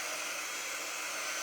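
A hair dryer blows on a chalk-coloured craft piece, making a steady, close airy whir that holds evenly throughout without voices.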